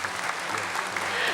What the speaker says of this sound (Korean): 축하의 박수를 쳐드릴게요